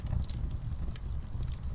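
Horse hooves clip-clopping as a horse starts forward across open steppe, a soft irregular patter of steps over a low rumbling background, moderately close.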